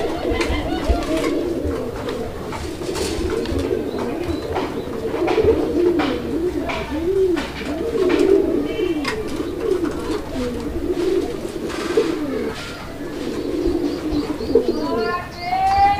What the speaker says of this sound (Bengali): এটাও গোল্লা কবুতর, খুব সুন্দর একটা জোড়া আপনারা দেখতে পাচ্ছেন